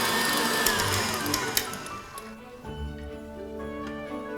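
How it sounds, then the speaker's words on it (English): An electric mixer whisks egg whites and sugar for meringue toward stiff peaks, a steady whirring drone with scraping clicks against the bowl that softens partway through as the motor changes pitch. "we're gonna keep whisking until we get stiff peaks"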